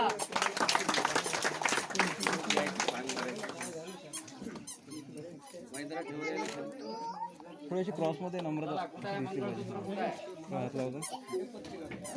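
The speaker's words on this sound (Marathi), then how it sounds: "टाळ्या वाजून स्वागत करा" Guests at a wedding clap to welcome the couple, a dense patter of hand claps strongest at the start and fading into lively chatter and overlapping voices.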